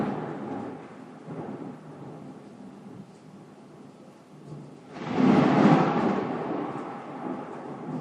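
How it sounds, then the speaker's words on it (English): Thunder from a Tokyo thunderstorm rolls in over a soft background hiss, swelling into a loud, broad rumble midway before slowly fading back down. "Thunderstorms are rare in Tokyo."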